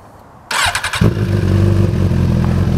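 A 2014 Suzuki GSX-R 1000 fitted with a full carbon fiber Yoshimura exhaust cranks briefly and then fires, settling into a loud, close, steady idle.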